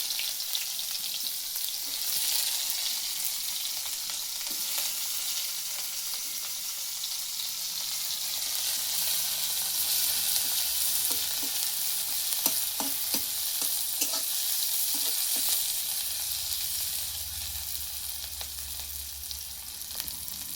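Chopped onions and green chillies sizzle steadily in a hot pan in a village kitchen, a continuous bright frying hiss with occasional soft stirring scrapes, close and alone without voices.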